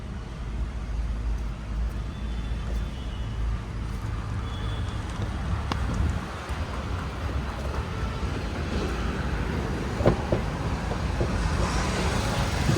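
A Tata Altroz's 1.2 litre Revotron petrol engine runs on CNG with the air conditioning off, giving a steady, even drone with no speech over it.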